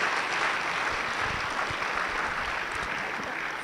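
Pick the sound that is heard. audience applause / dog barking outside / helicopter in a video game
audience applause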